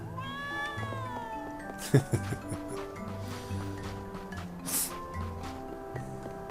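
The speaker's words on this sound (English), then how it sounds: "Cat." A cat meows several times in the video game Trials of Mana, its cries rising over layered game music with a couple of sharper accents in between.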